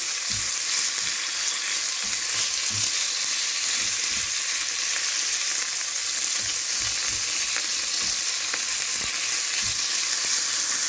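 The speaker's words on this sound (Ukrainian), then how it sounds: "обсмажуємо до готовності" Chicken breast fries in a pan with a steady, close hiss and crackle that runs unbroken throughout, dotted with occasional louder pops and no voices.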